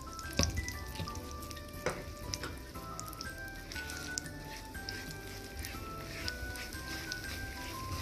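Ragi flour is stirred into a melted mixture in a pan, producing a soft, continuous sizzle with scraping stirs and occasional clicks, and faint background music underneath.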